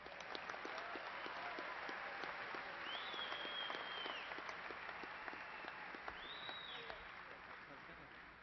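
Long, even round of applause from a large indoor audience for graduates at Angelo State University's fall 2018 commencement ceremony, a soft, distant-sounding wash of many clapping hands that holds steady without a break.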